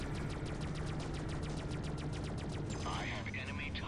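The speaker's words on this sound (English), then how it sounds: "just stay still and let me shoot you" Rapid weapon fire from the space video game Freelancer runs as a steady stream of evenly spaced shots over a constant engine hum, ending in a swoosh near the close.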